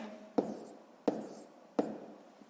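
Pen or pencil strokes on paper make three sharp taps spaced evenly apart, each followed by a brief scratch, as numbers are written by hand during a sixth-grade math exercise in a quiet room.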